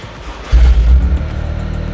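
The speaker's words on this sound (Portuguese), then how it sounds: "Deixei até a porta aberta aqui para vocês escutarem o som do ronco do carro, pois realmente é um esportivo." A 2024 Toyota GR Corolla Circuit hatchback with a 1.6 turbo engine runs at idle, then gives a loud, close blip of low rumble about halfway through and settles into a steady throaty idle.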